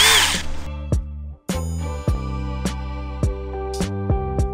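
A power tool strips paint from steel plates ahead of welding on an RX7 subframe with a 1JZ engine swap, a loud steady whine broken by several sharp metallic hits and brief pauses, with no talking.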